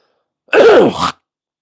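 A single harsh, phlegmy throat clearing, loud and close, lasting about half a second in an otherwise quiet room.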